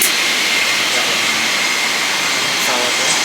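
Steady broadband cabin roar inside a Singapore Airlines Boeing 777-300ER at Changi before takeoff, a constant loud hiss of engines and air systems filling the whole clip, with faint voices beneath.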